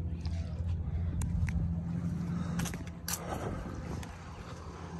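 A 1996 Four Winns 240 Horizon boat with a fuel-injected Volvo 7.4 engine and dual stainless steel props, a low steady engine rumble with a few faint clicks and knocks over it.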